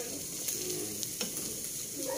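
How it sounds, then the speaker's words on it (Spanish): Ground suadero cooks in a pot with garlic, onion and bay leaf, giving a faint continuous sizzling bubble with a few soft clicks and stirring knocks, no voices. "se va a ir hirviendo con el ajo, la cebolla y el laurel"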